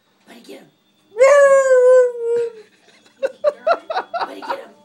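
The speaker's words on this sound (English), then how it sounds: "there's the dog." A dog lets out a long, loud, wavering howl, then a quick run of high yips and whimpers, with a voice heard faintly at the start.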